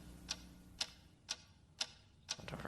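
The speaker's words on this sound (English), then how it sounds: "What is that mysterious ticking noise?" Five evenly spaced sharp ticks, about half a second apart, sound faint and close against a quiet background, with no voices.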